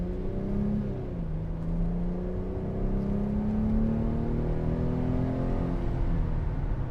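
A 2006 Mercedes-Benz SLK280 3.0 engine revs up, its tone climbing and holding steady, loud and close with a constant mechanical drone.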